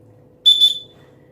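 A single short, shrill blast from the plastic whistle on the chest strap of an Eiger Equatortrek 65L backpack, close and loud against near silence, tapering off quickly.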